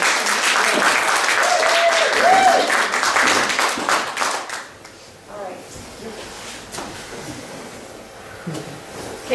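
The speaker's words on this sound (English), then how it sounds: "So let's give them a big applause." An audience claps and cheers loudly for storytellers on stage, a dense burst of applause that fades after a few seconds into scattered claps and low room noise.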